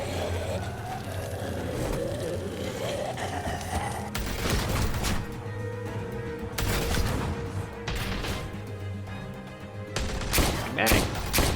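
Gunfire from The Walking Dead video game crackles in dense bursts of rapid shots against a steady rumbling background, loud and close, with voices talking at points.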